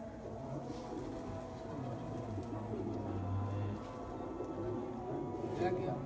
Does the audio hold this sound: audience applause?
no